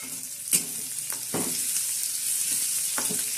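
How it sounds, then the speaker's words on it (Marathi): Chopped onion sizzles steadily in hot oil in a pan, close and continuous, with a few sharp stirring knocks and scrapes of a spoon against the pan. "त्याच्यानंतर बाई आपण कांदा टाकलाय आता कांदा टाकलाय आपण"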